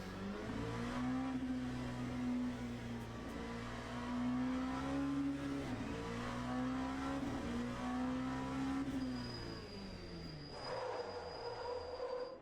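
An LMP2 prototype race car in the Le Mans Ultimate sim, engine droning steadily with a rising and falling whine, ending in a long sustained squeal as the wheels lock under braking, no talk.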